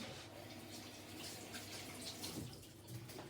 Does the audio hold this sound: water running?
yes